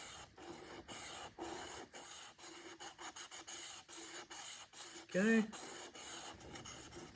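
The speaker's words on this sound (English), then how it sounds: "then gently I'm going to scrape the sandpaper across the bevel" Sandpaper rasps against the bevel of a travisher blade in a run of short, gentle back-and-forth strokes, quiet and close, with a brief spoken word partway through.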